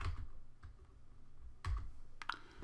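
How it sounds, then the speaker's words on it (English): Keys on a computer keyboard are tapped in a few quick, soft, close clicks, spaced irregularly in a quiet room. "I can just start typing"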